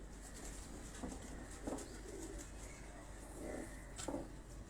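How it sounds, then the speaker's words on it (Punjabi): Hockey pigeons coo in low, soft bursts a few times, faint and somewhat distant against a quiet background hiss, with a brief wing flutter. "ਇਹ ਜੀ ਹਾਕੀ ਕਬੂਤਰ ਤੁਹਾਨੂੰ ਦਿਖਾ ਰਹੇ ਹਾਂ ਜੀ"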